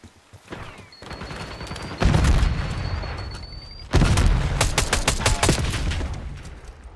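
Sniper fire and other gunfire in an online shooter video game: loud booming shots, with a strong burst near two seconds and another near four, then a thinner spread of crackling gunfire and sporadic impacts that fades toward the end.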